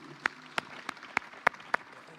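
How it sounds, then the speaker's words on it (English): Scattered, sharp handclaps at a Kenya Kwanza manifesto launch event come from only a few people. About six separate claps ring out at irregular intervals over a quiet room. "I think she deserves another clap."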